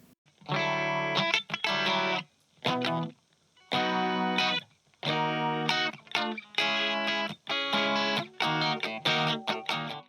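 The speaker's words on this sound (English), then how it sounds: "the first one is going to be phaser" An electric guitar through a Blackstar ID:CORE V3 amp plays distorted chords in short bursts with pauses between, the tone sweeping and swirling from the amp's phaser effect.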